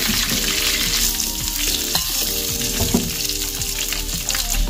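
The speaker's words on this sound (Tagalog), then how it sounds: "prituin lang natin ito habang tayo naghiwa ng ingredients" Milkfish (bangus) fries in hot oil in a home kitchen, giving a steady, close sizzle with occasional scraping and stirring sounds, and a faint tonal hum runs in the background. Nobody speaks.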